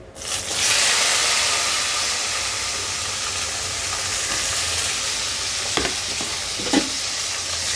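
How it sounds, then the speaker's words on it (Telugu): Fenugreek, cumin and green chillies frying in oil in a pan, giving a loud, steady sizzle that flares up at the start and continues throughout, with a couple of faint clinks of stirring near the end. "ఇప్పుడు పచ్చిమిర్చి బాగా వేగిపోయింది"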